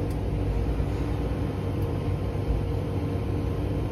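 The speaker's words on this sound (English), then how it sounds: "Excuse any traffic noises, this is an outdoor laundrette." Traffic noise outside an outdoor self-service laundrette: a steady, even rumble with a broad hiss on top, constant for the whole stretch with no talking.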